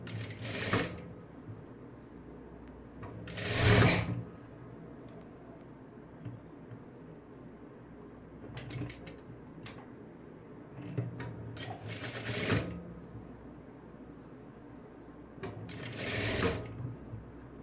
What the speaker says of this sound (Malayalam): ഇത് കൈക്കുഴിൻ്റെ ഭാഗമാണ് നമ്മൾ തയ്ച്ചു കൊടുക്കുന്നത്